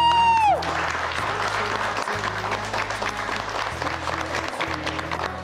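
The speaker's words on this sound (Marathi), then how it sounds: "तिच्यासाठी जोरदार टाळ्या" An audience claps steadily for the musical chairs winner at a televised event, a dense continuous applause over background music that opens with a falling synth swoop.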